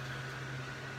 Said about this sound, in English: that air conditioner is really loud